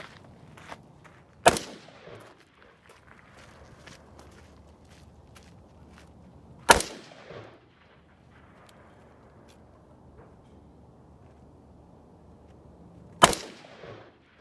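Three sharp, loud gunshots from a PSA PA65 and a 10.5 AR pistol, fired singly several seconds apart, each ringing off into a short decay over quiet background.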